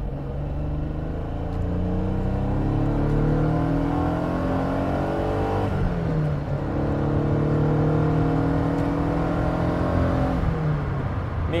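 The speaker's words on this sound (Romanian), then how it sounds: "rotația arborilor cu came, sunetul de rulmenți din cutie, sunetul cardanului." A 1983 Maserati Biturbo runs and drives up through the gears, its engine note rising in long revving sweeps, dropping at each shift and climbing again, loud and close with gearbox and driveline whine and no talk.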